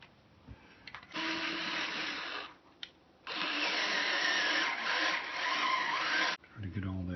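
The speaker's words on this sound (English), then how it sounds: "let's move up to the next size on the drill" Low-power electric drill boring a larger hole into a Kala eight-string baritone ukulele, two sustained whirring bursts of a few seconds each with short pauses between, close to the microphone.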